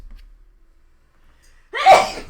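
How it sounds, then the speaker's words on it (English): A single sharp sneeze bursts out loud and close after nearly two seconds of near silence, with a short breathy tail. "have to sneeze"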